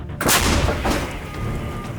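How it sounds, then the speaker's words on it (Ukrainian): A single heavy gun blast goes off, a sharp loud boom followed by a rumbling echo that lingers and fades. "Гармата! Постріл!"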